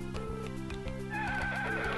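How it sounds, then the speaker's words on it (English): Horses neigh and whinny at the Horse Festival in the Harvest Moon DS game Island of Happiness, with rhythmic clip-clop hooves under looping game music, steady and close throughout. "Seeing some horses race."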